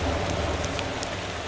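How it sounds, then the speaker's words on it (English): Steady rain falling in the Motor Town driving game, a broad even hiss that holds at the same level throughout with no voices. "we got a little rain going"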